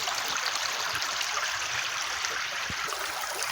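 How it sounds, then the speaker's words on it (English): A small water pump runs in an old silver mine in Scotland, giving a steady, even rush of splashing, hissing water that continues without a break. "A wee pump here. And get it running, see what we get."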